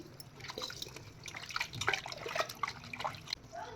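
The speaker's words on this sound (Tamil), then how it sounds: "மட்டனை தண்ணி ஊற்றி நல்லா அலசிக்கலாம்" Water trickles and splashes intermittently as mutton is rinsed, with drips and faint clatter close by.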